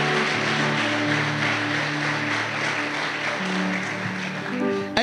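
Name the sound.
church congregation applauding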